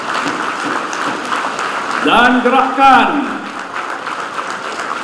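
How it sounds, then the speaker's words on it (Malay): Applause from the crowd at a Bersatu party general assembly forms a steady wash of clapping beneath someone speaking loudly into a microphone. "tepuk tangan"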